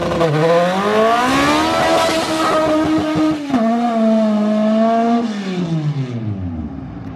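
A race car engine revs hard and close, its pitch climbing and holding against the rev limiter, dipping briefly, then rising again before easing off, loud and continuous throughout.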